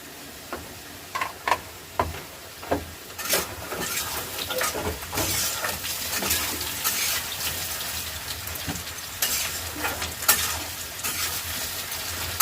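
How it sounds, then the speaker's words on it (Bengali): Pieces of Rupchanda fish frying in hot oil for a broth with potato and radish, a steady hissing sizzle with scattered pops and crackles, close and continuous with no talking. "এরকম করেই ভাজতে হবে, লাল লাল করে।"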